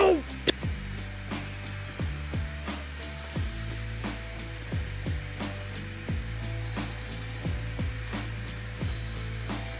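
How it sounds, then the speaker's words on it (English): A drill bores pocket holes in wood with a Kreg jig while a vacuum runs dust collection. The steady whir is broken by repeated short bursts of drilling at regular intervals, close and fairly loud. "I go ahead and drill about 100 more pocket holes."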